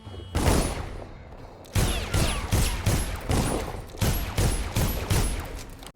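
Rapid, heavy shots from an upgraded pistol in the video game Dishonored, about a dozen booming reports in quick rhythmic succession after one opening shot and a short gap, loud and close with no talking.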